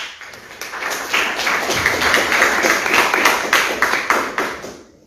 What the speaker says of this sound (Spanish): vamos a darle paso al senador Alexander Yáñez, quien nos disertará sobre el título de esta conferencia. Recibiámoslo, por favor, con un fuerte aplauso.